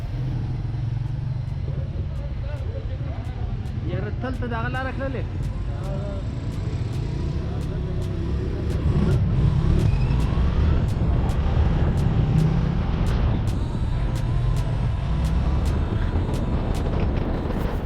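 Motorcycle ridden fast on a mountain road in Swat, Pakistan, its engine a continuous close rumble with wind noise, growing louder midway, with a voice speaking briefly early on.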